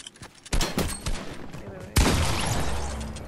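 Video game gunfire from Fortnite breaks out in two loud bursts of rapid shots, the second sustained and echoing, with faint voices in the background.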